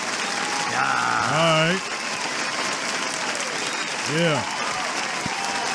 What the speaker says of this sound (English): Let me see if I can get a applause sound effect.